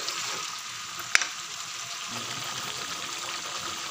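Finely ground masala frying on low heat for mutton curry, a soft continuous sizzle with one sharp click partway through, close and steady.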